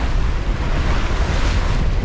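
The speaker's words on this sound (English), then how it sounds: "you can just hear the waves outside crashing" Heavy offshore ocean waves surge and crash steadily against a sailing yacht in rough weather, a dense, continuous roar mixed with wind buffeting the microphone, with no voices.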